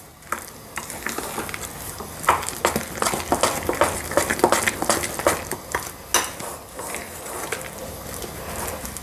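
Dosa batter being mixed by hand in a bowl, giving quick irregular wet slaps and utensil clinks close by, while oil heats in a pan on the stove for making punugulu.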